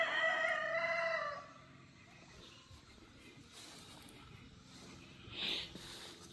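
Guinea fowl calling in a garden where loofah vines are grown, a loud harmonic cry in the opening second and a half, followed by quieter outdoor background and one brief high call near the end.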